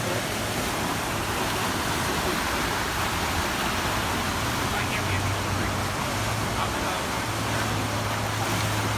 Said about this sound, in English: Look at these waves though